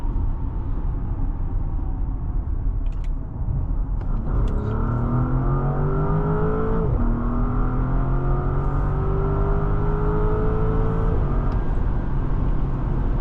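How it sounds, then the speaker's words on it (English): A 2024 Porsche Cayenne S Coupe engine pulls hard through several rising acceleration sweeps with quick gear changes, a loud steady rumble heard from inside the cabin with no talking. "That engine sounds really good."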